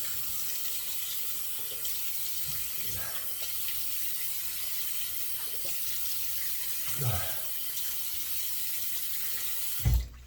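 Water runs steadily from a sink tap to wet the face before a shave with an adjustable safety razor, a continuous close hiss with faint splashes of hands in the stream and a louder splash near the end.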